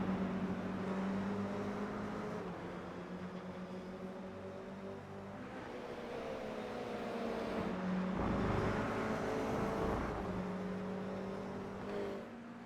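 Toyota GR86 race cars lapping Brands Hatch in iRacing, engine drones rising and falling through gear shifts as cars pass, swelling louder in the middle and then easing off.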